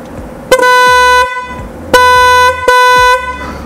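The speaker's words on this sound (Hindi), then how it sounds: "इसका मतलब है ये हाई वाला हॉर्न है, और यहाँ पर प्रॉपर लिखा हुआ है मेड इन इटली।" FIAMM Italian-made high-tone car horn blasts three times up close, loud sustained bright honks, the first and last longer and the middle one shorter, with no talk.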